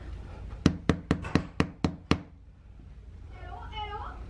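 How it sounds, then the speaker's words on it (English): Seven quick, sharp knocks strike a cruise ship cabin door in an even rhythm, close and loud, followed by a faint voice in the quiet that comes after. "I'm gonna go knock on the neighbor's door see who's next door to us"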